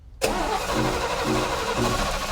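A 396 big block V8 in a 1970 Camaro RS/SS cranks and catches with a sudden loud burst, then settles into a steady, rumbling idle close to the microphone.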